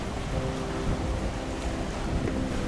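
A water sports boat speeds past on the port side of a vessel heading toward a canal lock, its engine rush blending into steady broadband wind and water noise that stays loud and constant throughout.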